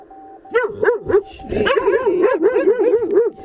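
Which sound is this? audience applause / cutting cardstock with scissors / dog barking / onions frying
dog barking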